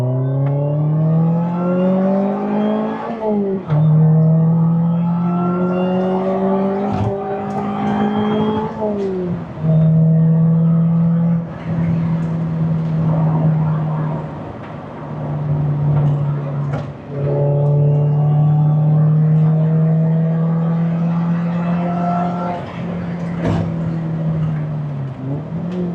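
Lotus Elise sports car accelerating through the gears, its engine note climbing in pitch with drops at each shift, loud and continuous from inside or close to the car.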